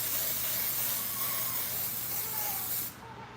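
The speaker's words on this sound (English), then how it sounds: "You take that burgundy tint and I'm gonna spray around it just to give it like a nice little burgundy shade." Burgundy hair tint sprayed around a quickweave gives a continuous close, loud aerosol hiss lasting about three seconds before cutting off, with no talking.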